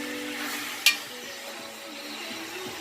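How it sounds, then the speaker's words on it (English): Cabbage cooking down in a pot, stirred with a soft scraping swish and a faint sizzle, with one sharper clink of the spoon against the pot near the start. "But this way you have to just keep stirring it so it don't burn."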